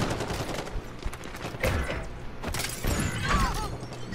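Gunfire in Call of Duty Modern Warfare during a clan search-and-destroy match, with dense bursts of shots and clattering impacts that rise and fall throughout, fairly loud against steady game background noise.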